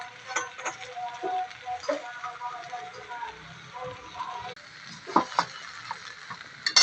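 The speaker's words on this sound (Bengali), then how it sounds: "শাক আলু বেগুন ভালো করে ভাজা ভাজা হয়ে গেছে।" Greens, potato and eggplant fried in a pan with a soft sizzle and intermittent spatula taps and scrapes, fairly quiet and close, with faint background voices.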